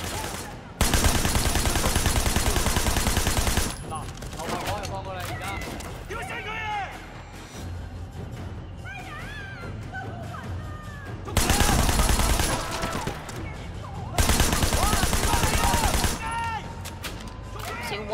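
Bursts of gunfire in the open-world action game Sleeping Dogs, loud sustained volleys at the start and twice near the end, with a player talking throughout the quieter stretch between.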